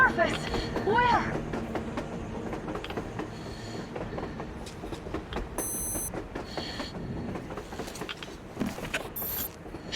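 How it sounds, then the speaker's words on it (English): A train running on the surface in Metro Exodus, rumbling with mechanical clatter and brief squealing wheels throughout, under a man's speech. "A damn train on the surface!"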